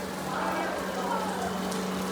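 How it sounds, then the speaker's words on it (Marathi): Steady heavy monsoon rain hisses across a surface in Alandi, near the flooding Indrayani River, a dense continuous patter with a low hum underneath and a voice faintly audible. "खूप पाऊस होतो, खूप पाऊस."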